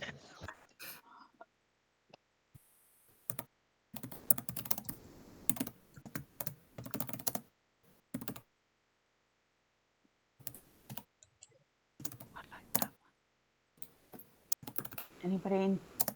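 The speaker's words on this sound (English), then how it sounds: "It's me typing things and going, how do you spell that?" Typing on a computer keyboard during an online tabletop role-playing session. Bursts of fast, close key clicks alternate with pauses of near silence, and a voice talks briefly in between.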